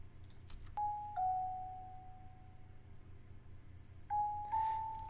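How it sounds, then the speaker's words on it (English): A synthesized bell sample in a Studio One 3 mix, struck twice at the start and twice again near the end, each pair of clear sustained tones ringing with a delay effect over a quiet background. "Let's hear the delay for the bell."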